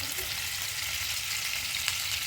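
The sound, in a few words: paneer pieces frying in a pan with oil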